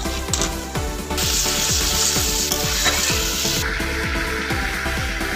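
Spice paste for mutton kofta curry, made with chilli powder, salt and tamarind water, sizzles loudly and continuously in hot oil while being stirred, with rhythmic scraping strokes of the spoon against the pan.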